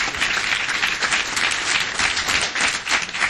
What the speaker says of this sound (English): give these boys another round of applause